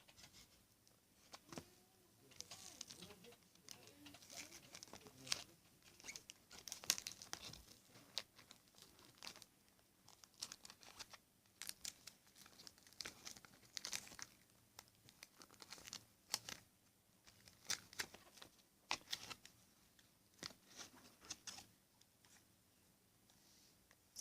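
Excess tape and paper are folded inward on a small cardboard box, giving soft, irregular crinkles, taps and rustles at close range for a long stretch with no talking.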